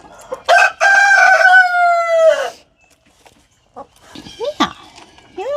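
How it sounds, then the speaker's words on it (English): A free-range rooster crows loudly and close, one long drawn-out call, followed by quieter clucks and chirps from the flock with faint background voices. "That's our free-range chickens."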